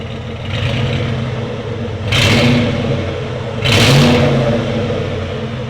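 A 2007 Saleen S331 with a supercharged 5.4L V8 and Black Widow exhaust revs twice in quick bursts over a steady idle, loud and close.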